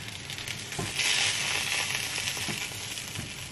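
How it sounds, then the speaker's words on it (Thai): Pork sizzles loudly on a hot grill pan, a dense crackling hiss that swells briefly and stays steady, with occasional soft stirring scrapes. "หมูย่างกระทะนะทุกคน"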